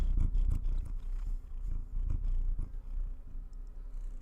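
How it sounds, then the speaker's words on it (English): A pet cat purrs steadily and close to the microphone. The low, continuous rumble pulses with each breath and carries no talking over it. "Cat is purring."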